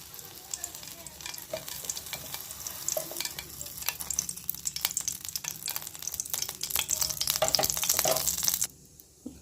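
Ghee heating in a pan on the stove, a close, steady crackling sizzle that builds in intensity and then drops away abruptly near the end.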